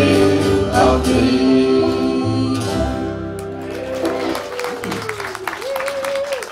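Audience applause at the Wessex Folk Festival 2018 washes over the final sustained notes of a folk song played loud and close, then fades as a voice begins speaking.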